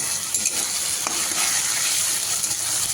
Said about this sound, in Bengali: টমেটো আর পেঁয়াজ একটু কষিয়ে নিচ্ছি